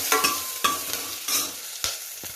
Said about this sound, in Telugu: కొద్దిగా పచ్చిమిరపకాయలు, కరివేపాకు, ఇవన్నీ ఒకసారి కలుపుకొని